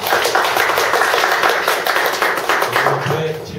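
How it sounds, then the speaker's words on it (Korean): Group of listeners at a small mentoring meetup clapping together, a brisk run of claps from a modest crowd that thins toward the end as a voice begins speaking. "박수 부탁드립니다"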